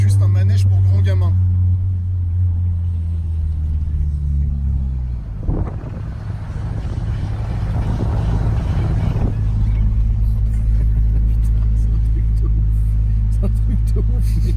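An old-style tuned car with a deep engine rumble, idling low at first, then revving harder mid-clip with a rough broadband roar before settling back to a steady heavy drone; people talk nearby.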